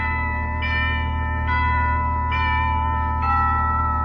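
A doorbell chimes in four steady tones over a low hum, each ring sustained and clear, nearby, in an old-time radio drama.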